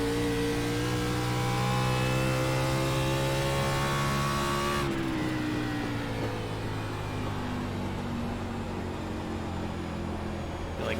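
A NASCAR Class B car in an iRacing sim at New Hampshire roars loudly and steadily for about eleven seconds, its engine note climbing under throttle, then shifting down to a lower, slightly quieter drone.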